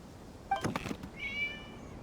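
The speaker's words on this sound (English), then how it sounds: "It was just a cat." A single video-game cat meow close by, accompanied by a brief thump, then a thin, drawn-out high mew that fades out.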